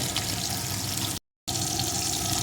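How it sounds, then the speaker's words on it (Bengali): Katla fish pieces frying in hot oil, a steady loud sizzle and crackle with a brief gap of silence midway, no voices. "এখন মাছগুলোকে এপিট ওপিট করে লাল লাল করে ভেজে নেব"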